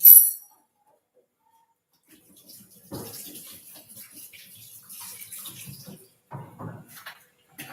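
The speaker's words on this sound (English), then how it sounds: "I just let it run under the water and continue to release pressure until I can open it" Tap water runs over a pressure cooker to release its pressure, coming in splashing bursts after a short sharp hiss at the start, with quiet gaps between.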